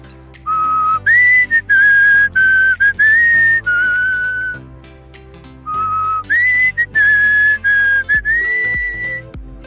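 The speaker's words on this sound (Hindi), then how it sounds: "तो कोई सीटी बजा के हमें दिखाओ" Students whistle a melody at a university, clear high tuneful notes in short phrases with brief gaps, close and loud with no talking.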